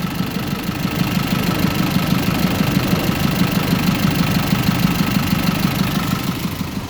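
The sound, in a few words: 2005 GMC box truck engine idling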